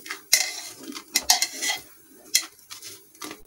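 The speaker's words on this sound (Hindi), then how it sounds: "अब मैं इसे कुकर में से निकाल लूंगी नान को" Naan pulled out of a pressure cooker on a home gas stove, with several sharp metallic clinks and scrapes of utensils against the cooker, separated by quieter pauses, no talking.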